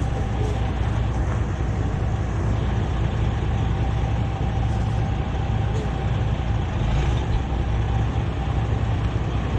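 A toter truck hauls a double-wide house away, its heavy diesel engine rumbling steadily and loudly for the whole stretch, with no talk over it.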